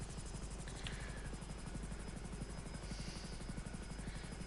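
Steady rotor thrum of a GTA 5 helicopter, loud and continuous with an even rapid chop, a couple of faint game beeps over it.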